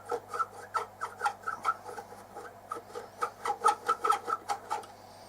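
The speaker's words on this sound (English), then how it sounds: "Well, I'm undoing the screws," Screws being undone on a 1972 Dynatron CP1 cassette tape deck, heard as a close, steady run of short squeaky rasping strokes repeating about three times a second, with no talking.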